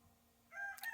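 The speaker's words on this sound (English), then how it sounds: "Sorry, that's my rooster." A rooster crows near the end of a short quiet stretch, a brief, fairly loud call coming in after a faint background hum.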